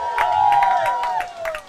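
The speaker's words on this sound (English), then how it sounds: "Got a nice cheering section here for Gabe" A crowd in the stands at a high school football game cheers and shouts in a brief, lively burst, with whistle-like tones and scattered yells over the noise.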